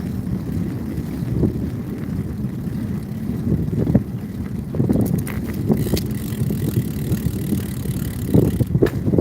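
A bicycle ridden hard gives a steady, loud rush of rolling and wind noise, broken by a few soft thumps and rattles, with no voices.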